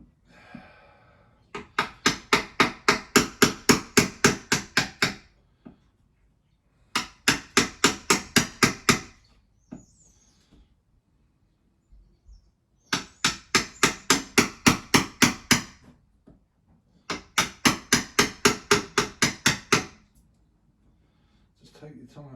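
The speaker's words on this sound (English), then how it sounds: "All the time keeping this chisel straight." Chisel struck into a wooden door while it is being fitted, heard as four close, loud volleys of about ten rapid regular hammer blows each, separated by brief quiet gaps.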